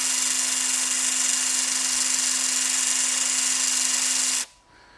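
A HYTORC centerlock wheel gun runs in one continuous, loud, high-pitched whine with a steady tone while loosening a centerlock wheel nut, then cuts off abruptly near the end, leaving near quiet.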